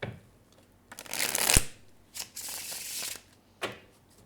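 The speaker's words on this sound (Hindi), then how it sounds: "One last shuffle." Tarot cards are shuffled up close in a few distinct bursts: a long loud riffle, then shorter swishes and a final soft slap. No one speaks.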